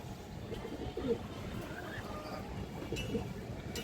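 Pigeons at a pigeon farm give soft, low coos, two faint calls standing out from a murmuring background, with someone talking throughout.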